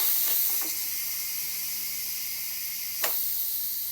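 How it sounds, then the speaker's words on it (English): A Pampered Chef Quick Cooker pressure cooker venting steam: a faint, steady hiss runs throughout, with a few soft clicks near the start and one sharp click about three seconds in. "I'm gonna push this button, and it's gonna release the steam."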